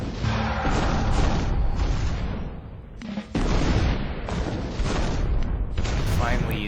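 Bomb explosions in the strategy game Rise of Nations, dense overlapping booms and blasts rumbling almost without pause, loud and close, with a brief dip in the middle, and no talk.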